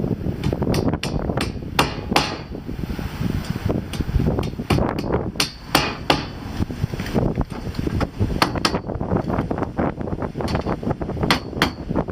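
A hammer drives a 3-inch nail into a wooden wall brace during framing, sharp close blows repeating in uneven bursts over outdoor wind noise.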